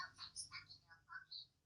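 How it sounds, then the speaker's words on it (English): A mobile phone chirps out a quick series of faint, high, tinkling ringtone notes in a quiet room during a colouring session, with no other sound around. "That was my phone."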